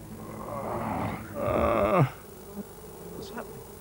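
Wasps buzz from a nest in a low, droning swell that grows louder for a moment and then fades to a faint hum.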